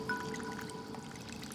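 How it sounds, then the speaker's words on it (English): Soy sauce and cooking wine pour onto grass carp boiled for the Hangzhou sweet-and-sour fish dish. A steady, close liquid pour and splash continues throughout, with faint kitchen bubbling underneath. "Then soy sauce and cooking wine are added."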